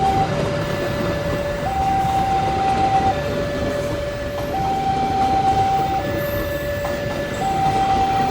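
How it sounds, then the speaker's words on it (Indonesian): Commuter train departing Probolinggo station, heard as a steady loud rail rumble with a repeating two-note electronic tone from the level-crossing warning bell, continuous throughout. "kereta api komuter lain Supas berangkat dari stasiun Probolinggo ke stasiun Surabaya Kota"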